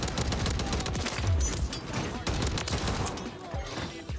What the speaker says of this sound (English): I am running no silencer because with this muzzle, I have very little recoil on the Sidewinder